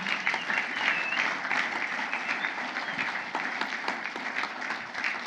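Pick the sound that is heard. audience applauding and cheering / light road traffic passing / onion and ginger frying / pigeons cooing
audience applauding and cheering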